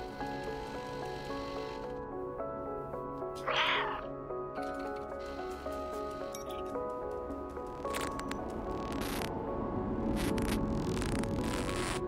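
A cat character in a video game meows faintly amid a steady game soundtrack hum, with a few short soft squishy effects scattered through a fairly continuous, moderately loud backdrop.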